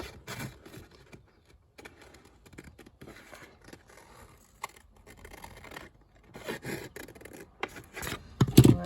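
Scissors cut paper for a folio, a run of soft snipping and rustling paper sounds, close and intermittent, growing louder toward the end.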